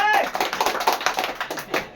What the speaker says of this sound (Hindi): ताली मारिए